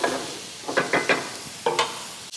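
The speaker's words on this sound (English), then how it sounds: "stir that garlic in, and I don't want to disturb this too much while I'm sauteing it" Garlic sautéing in a pan for a turkey meatloaf, with several distinct close stirring scrapes and brief spatters over a light sizzle, no voices.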